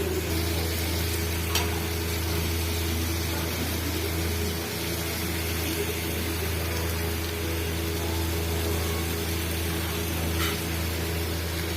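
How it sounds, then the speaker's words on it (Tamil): Soya chunks fry in a pan with a steady, continuous sizzle and a low constant hum running beneath it, broken only by a couple of faint scrapes. "இப்போ பார்த்தீங்கன்னா அது நல்லா ஃப்ரை ஆகிட்டே இருக்கு."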